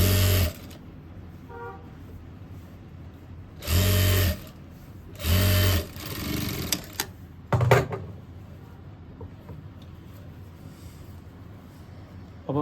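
A sewing machine stitches up the open side of a boy's cord set in short bursts, with three loud runs separated by quiet pauses and a brief rattle near the end.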